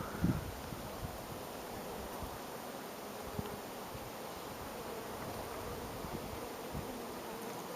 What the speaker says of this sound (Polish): No pszczół jest od groma